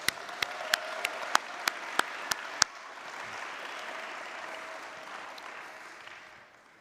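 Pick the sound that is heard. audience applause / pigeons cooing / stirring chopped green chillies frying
audience applause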